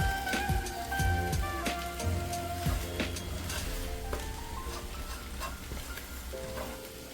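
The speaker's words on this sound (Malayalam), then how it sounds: "പിന്നെ നമുക്ക് ഈ ഫ്രൈഡ് ഒനിയനും നമ്മുടെ ഈ ചിക്കൻ കൂടെ നന്നായിട്ട് അങ്ങോട്ട് മിക്സ് ചെയ്യാം" Fried onion and chicken sizzling in a hot pan while being stirred for a spicy Kerala-style chicken roast, a dense continuous crackle with repeated scraping strokes of the spoon, loud and close.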